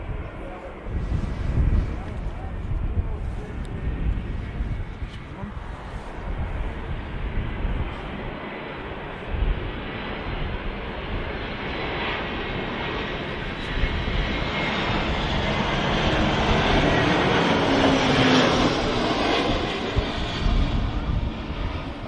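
EasyJet airliner landing in from Murcia at Manchester Airport, a broad jet engine roar that builds in the second half with a faint whine, voices talking faintly over it.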